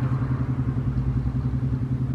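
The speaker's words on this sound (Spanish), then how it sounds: "¿Ves la moto?" A motorcycle engine runs steady and fairly loud nearby, a low pulsing drone that holds without fading.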